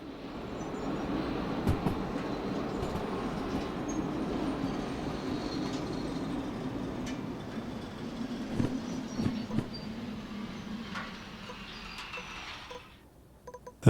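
A locomotive rolls along the track in the train game Derail Valley, giving a steady, close, rumbling drone with faint clanks and squeals, which fades out near the end.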